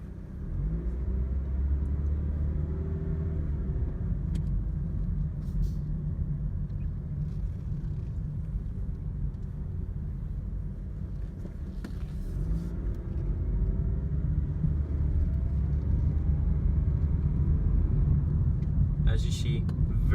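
A 2006 Honda Civic Coupe with an automatic transmission and 64k miles, heard from inside on a test drive, gives a steady low road rumble and engine hum at an even pace, with someone talking over it.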